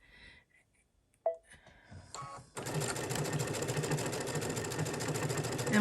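Quiet handling noises and a brief click give way to a sewing machine running fast and steady, stitching through fabric backed with stabilizer, its rapid even whir continuing to the end.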